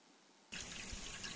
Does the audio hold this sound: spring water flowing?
yes